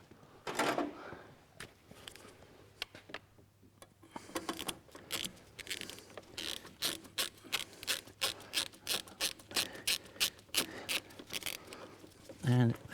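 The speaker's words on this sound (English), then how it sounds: "Again, when as you tighten this up, you'll tighten up onto the central tube, so you can't really over-tighten it." Bolt being tightened by hand in a heater blower box, a rapid series of close metallic ratchet clicks and small knocks, with a faint hum and a louder clatter near the end.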